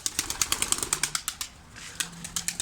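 White pigeon wings flap in flight, a rapid run of loud, close claps with a brief lull in the middle before the beats resume, no talk.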